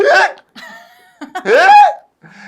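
A girl vocally imitates loud hiccups: two strong, pitch-sliding voiced gulps with softer breathy sounds between them, close and loud.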